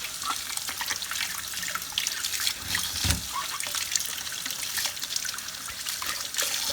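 Cold tap water runs steadily over seafood being rinsed at a sink, a close continuous trickle and splash with faint handling noises, no voices.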